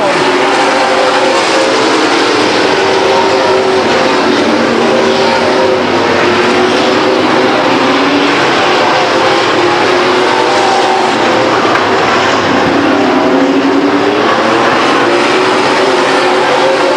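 Race cars lapping Stockton 99 Speedway in 1999, a dense, loud, continuous roar of engines circling the track, with no break or clear voice over it.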